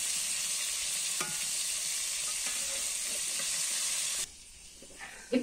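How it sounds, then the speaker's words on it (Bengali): Fish flipped in a frying pan of hot oil crackle and sizzle loudly for about four seconds before the hiss drops away abruptly, leaving quieter scrapes and a clatter at the end. "মাছ এক পিঠ ভাজা হয়েছে, মাছটা উল্টে নিচ্ছি।"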